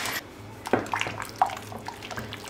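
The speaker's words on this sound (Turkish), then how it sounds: "Birazcık daha su katacağım." Water poured into a pot of Turkish lentil soup with turmeric: a soft, close splashing and trickling with small gurgles and drips, faint and fairly brief.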